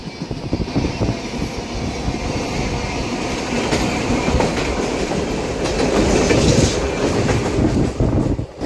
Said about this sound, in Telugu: అదిగోండి చాప్రా నుంచి చెన్నై సెంట్రల్ వెళ్ళే గంగా కావేరి సూపర్ ఫాస్ట్